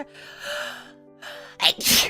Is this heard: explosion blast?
no